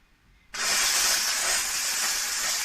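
Dupray Neat steam cleaner blasting steam: a sudden loud, steady hiss starts after half a second and holds continuously to the end, close and alone.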